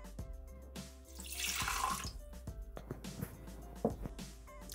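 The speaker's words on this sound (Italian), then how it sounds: "Iniziamo la ricetta mettendo all'interno del boccale l'acqua." Water runs from a tap or is poured into a Thermomix mixing bowl for pizza dough, a steady splashing stream at close range with small clinks and knocks around it and no talk.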